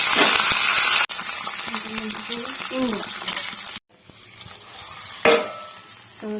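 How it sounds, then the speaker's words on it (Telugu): Loud, steady sizzling of mustard seeds, garlic and curry leaves crackling in hot oil, with a clink of a utensil and a brief pause in the frying hiss. "దీంట్లో ఆవాలు వెల్లుల్లి కరివేపాకు"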